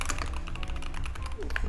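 Rapid typing on a computer keyboard, a dense run of close, crisp key clicks filling the short stretch, with a voice faintly talking underneath.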